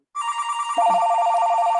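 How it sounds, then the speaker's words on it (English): A telephone rings loudly and close up, a steady electronic trill that starts abruptly and then jumps to a lower pitch, continuing unbroken with no voices over it. "I'm gonna have to go because I gotta answer the phone"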